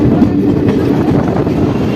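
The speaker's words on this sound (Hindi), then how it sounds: "चलिए फाइनली 2 मिनट होने के बाद अपनी ट्रेन का डिपार्चर होगा दिल्ली शहादरा जंक्शन से" The Delhi Haridwar Express pulls out of Shahdara Junction with a loud, steady rumble of rolling rail cars and faint clatter, all under continuous wind noise. No one speaks.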